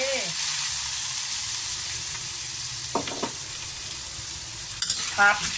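Crab stir-frying in a hot pan with Chinese cooking wine, a steady loud sizzle and hiss throughout with a few scraping stirs near the middle and a brief spoken word at the end.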